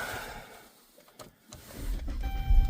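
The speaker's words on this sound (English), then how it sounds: "now before you put plastic cover, you want to start your vehicle" A Dodge Charger or Chrysler 300 engine is started after a brief quiet, with a low rumble rising and settling into a deepening idle near the end, accompanied by a faint electrical whine.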